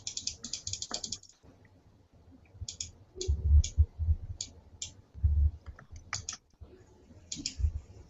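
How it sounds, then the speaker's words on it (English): Bursts of clicky keyboard typing into a computer terminal, quick runs of keystrokes separated by pauses, close by, with low muffled thumps in between. "Can you see what I'm typing in the terminal?"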